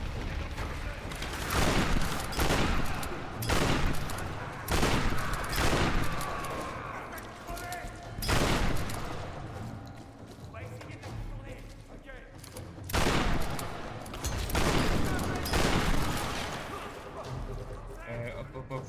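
Shotgun and other gunfire in a video game, repeated bursts of shots and booms in clusters across the whole stretch, loud and dense, with game sound effects between volleys.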